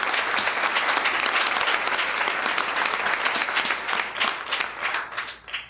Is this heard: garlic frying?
no